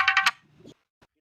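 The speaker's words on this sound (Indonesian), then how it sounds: "ada telepon lagi sebentar" A phone rings during a call with a short electronic ringtone, three quick bright tones in a row, followed by a faint thump and a soft click and then near silence.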